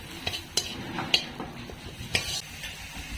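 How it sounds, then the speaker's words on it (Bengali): Spice paste with a little water and dry chili powder is being stirred in oil in a pan, with sharp spoon clinks against the pan at irregular intervals over a soft background sizzle. "মশলাটা কষে নেব"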